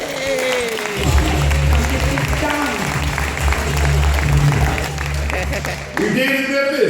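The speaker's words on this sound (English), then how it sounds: "Give yourself a round of applause, Memphis" An audience at the 2016 EBEn Award ceremony in Memphis bursts into sustained applause, dense clapping rising and filling the room for several seconds before tapering off.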